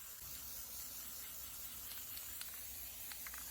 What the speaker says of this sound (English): I started to spray paint the whole boot gold